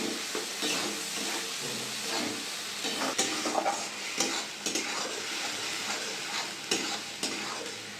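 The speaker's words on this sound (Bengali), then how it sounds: "পেঁয়াজটা দিয়ে দেবো তেলের মধ্যে। পেঁয়াজটা ভালো করে কষিয়ে নেব।" Ground onion paste hisses and sizzles in hot oil for a Bengali chicken curry, with continuous frying crackle broken by scraping strokes of a spatula stirring the pan.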